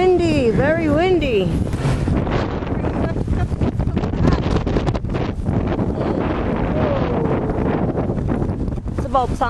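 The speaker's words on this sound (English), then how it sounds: "Windy, windy, windy, very windy." Strong wind buffets the microphone with a loud, continuous roaring rumble that lasts throughout, and a voice is briefly heard near the start.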